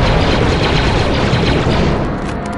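A grenade blast in the Star Wars: Republic Commando game comes as a loud, dense, sustained boom with rumbling debris that stays heavy throughout and eases off slightly near the end.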